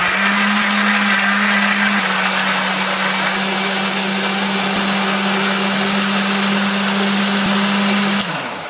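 A blender grinding chili and spices with a little water whirs loudly and steadily for several seconds, a constant grinding motor hum that cuts off abruptly at the end.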